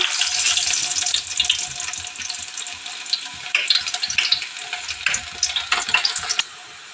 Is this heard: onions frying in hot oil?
yes